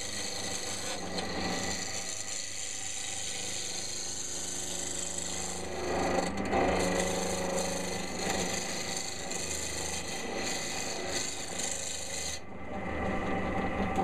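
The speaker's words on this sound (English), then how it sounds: "Just stop the lathe there" Wood lathe turning a workpiece into a cylinder, with a steady close hum and a rasping scrape of the tool against the spinning wood, continuous throughout without voices.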